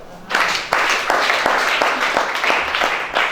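A church congregation at a deliverance worship service applauds loudly and steadily, the clapping close and continuous, without a break.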